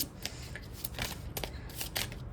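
A tarot card deck being shuffled by hand in a few quick, riffling bursts, close and fairly quiet, with no talk.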